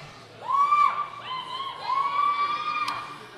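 A crowd at a junior women's powerlifting competition gives sustained whooping cheers, with two long rising shouts in a row and then a brief sharp yell, heard from a moderate distance.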